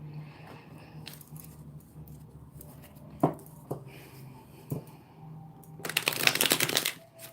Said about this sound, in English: So we're just having a quick shuffle.